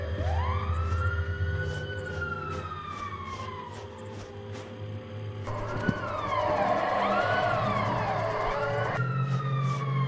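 Emergency sirens blare in the mascot horror game GiggleLand, a long rising-falling wail that shifts partway into a faster, overlapping warble before returning, loud and continuous with a dull thud midway and no voices.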